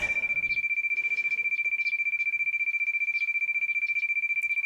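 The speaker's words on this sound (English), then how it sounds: "I click off my phone's alarm and check the time." Phone alarm in the Making Lovers video game rings as a steady, rapidly pulsing electronic tone that continues unbroken, clear and moderately loud over faint background sounds.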